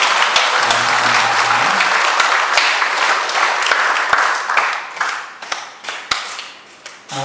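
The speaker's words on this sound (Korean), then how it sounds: "우리 한 번 더 박수 영광을 드릴까요?" A church congregation applauds after a choir's hymn of praise, a dense, loud wave of clapping that thins into scattered individual claps before fading out.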